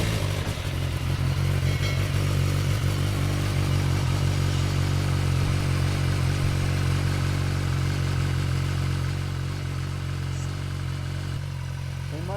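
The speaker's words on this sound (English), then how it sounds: "You wanna hear the cold start?" A BMW S 1000 XR motorcycle with a LeoVince Factory S slip-on exhaust cold starts and settles into a steady, fairly loud idle, a low rumbling putter close by that continues without revving.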